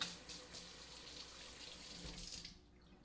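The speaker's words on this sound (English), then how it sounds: "I'll wash the oil off the pan." Tap water runs steadily into a sink while oil is rinsed off a cooking pan, a continuous near splashing hiss that tapers off as the flow stops at the end.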